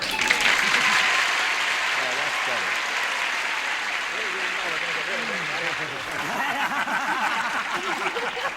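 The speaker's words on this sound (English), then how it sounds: "Instead of cheering and screaming and hollering and all that, you give them a little polite applause." Polite applause from a game-show studio audience, filling the clip evenly, with a host's voice talking over it and a few chuckles mixed in.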